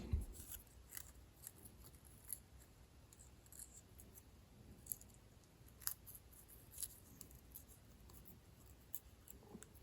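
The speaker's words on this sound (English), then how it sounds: "we'll use our razor blade to trim off the excess" A fresh razor blade trims excess material from a small ship's boat part for a 1/200 scale IJN Mikasa model, giving faint, sparse clicks and light scraping cuts at close range over a quiet background.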